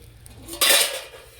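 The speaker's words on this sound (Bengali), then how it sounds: "আমি এই ঢাঙাটাকে খুলে দিচ্ছি" A metal lid lifted off a pan of steamed chitoi pitha, one sudden clattering clank and rush of noise after a quiet moment, close by.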